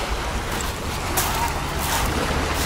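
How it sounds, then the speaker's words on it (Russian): Fountain water runs on an Alanya seaside promenade, giving a steady, broad rushing wash with no clear rhythm, fairly loud and continuous, mixed with wind and sea noise. "Это вода бежит."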